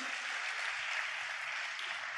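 A church congregation claps together in praise, a steady, even wash of many hands lasting a couple of seconds, heard at moderate distance without speech.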